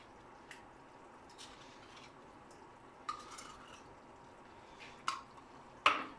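Canned tomato scooped from an opened tin into homemade lasagne sauce with a knife: faint wet squishes and scattered metallic scrapes and clinks, sparse and irregular, with sharper clinks near the end.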